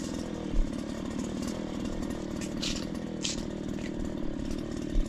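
A grass cutter's engine drones steadily and loudly while cutting grass in a banana garden, holding an even, unbroken whine for the whole stretch, with no talking.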